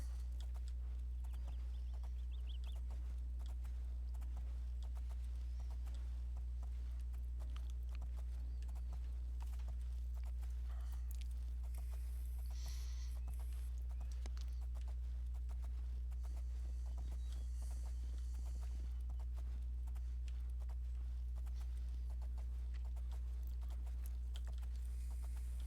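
Horse hoofbeats from the video game Oblivion, a steady clip-clop of a mount riding up into the mountains, moderately close over a low constant droning hum.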